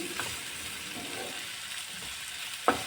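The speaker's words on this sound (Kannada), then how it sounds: "ಸ್ವಲ್ಪ ಉಪ್ಪು ಹಾಕ್ಕೊಂಡು ಫ್ರೈ ಮಾಡ್ಕೊಳ್ತಾ ಇದ್ದೀನಿ" Onions frying in a pan with a little salt over medium flame give a steady, soft sizzle throughout, with a brief sharper clatter of stirring near the end.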